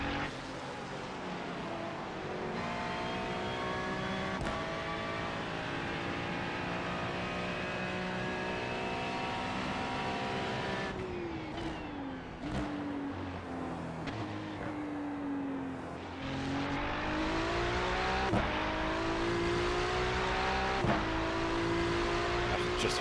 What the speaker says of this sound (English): Just hear that V6 Ferrari engine roar.